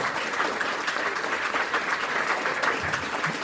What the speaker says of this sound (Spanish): Así que le damos un aplauso